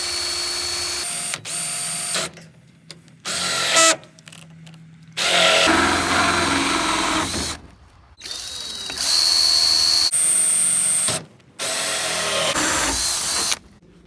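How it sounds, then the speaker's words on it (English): A power drill works on a build for an above-ground fish pond, running in about seven loud bursts of one to two seconds each with short silent pauses between them, the motor pitch rising and falling from burst to burst. "we're going to use this and start to drill here."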